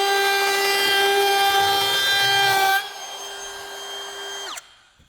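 A cordless router cuts a 3/8 round-over profile, a loud steady high-pitched motor whine with a wooden cutting rasp that drops at the end of the pass and then winds down quickly as the brake stops the bit.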